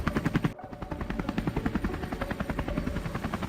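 Helicopter rotor chopping steadily overhead while following a blue Chevrolet Corvette, number 73, in a police chase toward downtown Charlotte, North Carolina; a fast, loud, continuous beat with a brief dropout early on.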